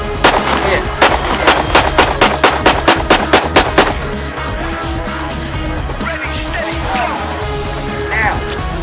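A handgun fires a rapid, evenly spaced string of about a dozen loud, close shots on a shooting academy range, then the shooting stops and a noisy outdoor background with faint activity continues.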